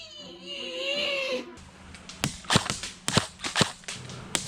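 Airsoft gun shots ring out in a run of sharp, loud cracks, roughly six in quick irregular succession after a brief stretch of a higher-pitched, whining sound, during an outdoor game.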